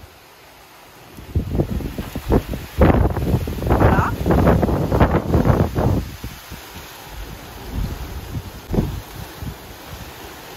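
Strong gusts of wind batter the microphone in loud, rumbling bursts that swell and fade; a voice speaks briefly.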